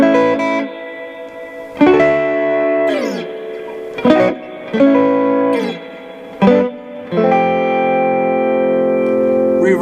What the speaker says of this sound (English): Let's try this reverb again. I'm going to try it all the way up.